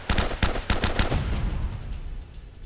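Rapid bursts of gunfire in the action-adventure video game Uncharted: Drake's Fortune, a quick string of loud, sharp shots in the first second that thins into scattered, fading reports.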